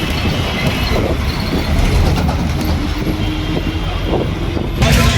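A train rumbles at Howrah railway station in a loud, unbroken roar of wheels and carriages. A faint high squeal runs through it, and the noise swells again near the end.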